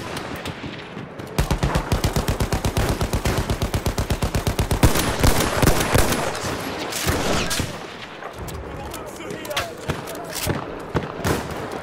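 Loud machine gun fire in Battlefield 1 on the Cape Helles map, heard as a long rapid rhythmic burst followed by more scattered gunfire and battle noise, with in-game voices calling out over it.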